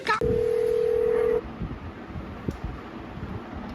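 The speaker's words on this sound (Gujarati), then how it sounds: "તો ચાલો ફટાફટ ટાઈમ વેસ્ટ કર્યા વગર લગાડી દઈએ ડોક્ટર ભરત આહિરને ફોન." Telephone number dialed for a prank call: a quick run of keypad tones, then a steady tone lasting about a second, followed by faint room noise and a few soft clicks.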